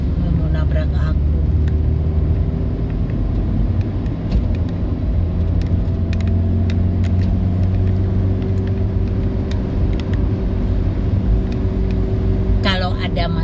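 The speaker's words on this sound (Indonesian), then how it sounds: "bis itu ngawur ya, kok sampai nganan banget" Bus swerving close past on an asphalt road, heard from inside a moving vehicle as a loud continuous engine rumble and road roar, with a voice talking over it.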